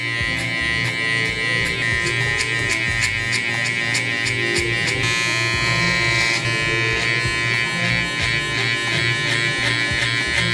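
Hair clippers with a 3 guard and the lever open cut hair for a burst fade, a close steady electric buzz with rhythmic flicking strokes, no talking.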